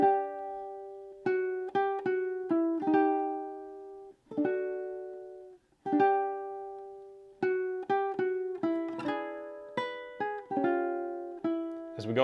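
Ukulele strums the repeating measures seventeen to twenty of a song, close and unaccompanied, with clusters of quick chord strokes separated by short ringing pauses.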